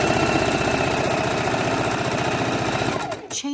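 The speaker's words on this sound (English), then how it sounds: "we're going to sew it all the way to the corner" A sewing machine stitches a quilt block, its needle running in a rapid, steady rhythm up close for about three seconds before it stops abruptly.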